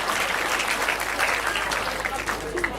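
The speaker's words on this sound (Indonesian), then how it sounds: "Tepuk tangan untuk teman kita, Walang ya." Steady applause from an audience at a Javanese cultural performance evening led by a puppet master (dalang), clapping for a singer; dense, continuous clapping throughout with a few voices faintly mixed in.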